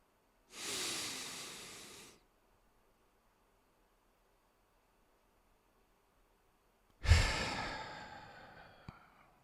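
Two long, breathy exhalations through the mouth as part of a slow breathing exercise, each lasting a couple of seconds and separated by a quiet hold, close and fairly loud with no talking.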